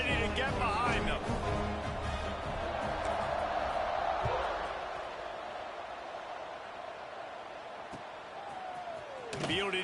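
A stadium crowd roars at a college football game between ECU and Air Force as the kickoff is set, a broad sustained cheer with whoops that swells and fades, and a commentator talks over it.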